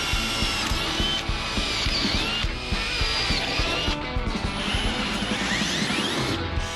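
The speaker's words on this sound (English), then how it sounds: "I need to go ahead and put gas expansion holes into this number 15 cross member" A power drill bores gas expansion holes into a 4130 chromoly cross member tube on a race car chassis. It whines loudly and steadily, close up, with grinding chatter and a few brief dips in pitch.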